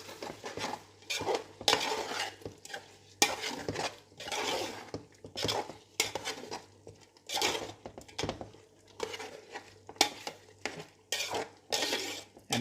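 Yogurt is stirred into chicken biryani in a pot, a spoon repeatedly scraping and knocking against the metal in uneven bursts, with a faint sizzle between the strokes and no talking.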